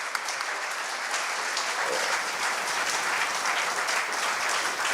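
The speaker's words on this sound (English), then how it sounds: "Round of applause for the ambassador and for Rivka." Audience applause for an ambassador at a talk event, a steady wash of many hands clapping throughout, moderately loud and with no speech over it.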